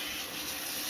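Steak searing in a very hot pan with Kerrygold butter, a steady close sizzle and hiss that holds evenly at moderate level for about a second, with no talking.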